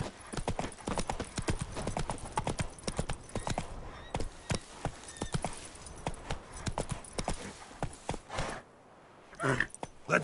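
Horse hooves gallop in The Witcher 3, a fast, steady clip-clop of close, loud hoofbeats that briefly thins out near the end before picking up again.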